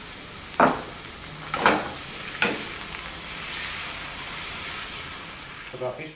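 Oil and honey cook in a pan while being stirred, giving a steady close sizzle broken by a few louder scraping strokes of the spoon, alone without talk.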